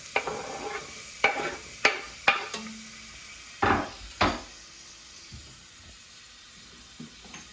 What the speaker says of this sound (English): So we'll get that oil hot. We're going to throw our onions in there.